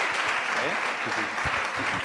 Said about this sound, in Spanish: La podemos recibir también con un aplauso